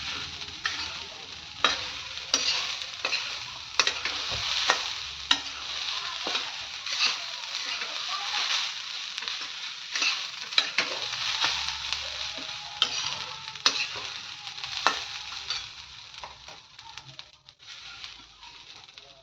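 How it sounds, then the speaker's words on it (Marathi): Grated coconut roasting with ghee in a pan for ukdiche modak, stirred steadily with repeated spoon scrapes and taps over a constant hiss of sizzling. "एकसारखं हलवत राहायचं नाहीतर हे करपतं थोडंसं तूप ॲड करूयात मिक्स करूयात"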